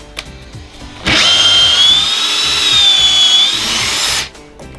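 A Metabo SB 18 LTX BL cordless drill drives a screw in one loud, continuous whine of about three seconds. Its pitch rises and holds, then it stops abruptly.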